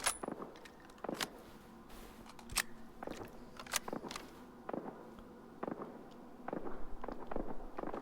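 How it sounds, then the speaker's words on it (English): Gunfire crackles in the distance in S.T.A.L.K.E.R. 2, sharp isolated cracks and short bursts arriving irregularly over a quiet outdoor background, faint and far off. "Somebody's shooting at something."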